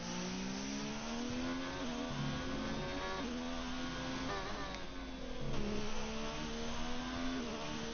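Onboard ride with a Ferrari racing car in F1 2019 at the Bahrain Grand Prix, its engine screaming steadily and close up with rising upshift sweeps and brief dips at gear changes across the lap.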